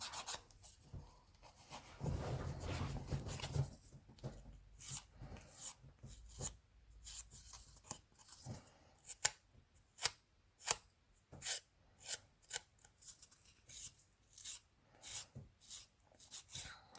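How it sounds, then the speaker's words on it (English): Gel polish is buffed off nails with a file in short, light rasping strokes, a broader rubbing burst early on, then a quick, uneven run of scratchy passes, close and fairly soft. "Just keep buffing ever so lightly until all of that gel is gone."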